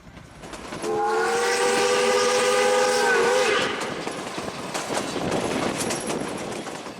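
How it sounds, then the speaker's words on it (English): An old west steam train on the Durango line sounds a loud, sustained horn blast as it passes through a campground, followed by a continuing rumble and rattle of the cars. "the train runs right through the park at least twice a day"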